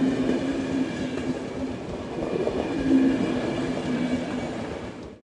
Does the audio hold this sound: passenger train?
yes